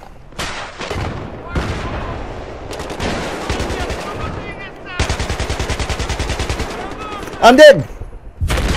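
Gunfire and a big explosion in the video game Battlefield 3, with rapid bursts of automatic fire and a loud blast late on, while a player talks over the action.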